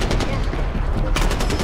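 Loud machine gun fire in Far Cry 4 pours out as dense, continuous rapid bursts, close and overwhelming, with a sharper run of shots near the end.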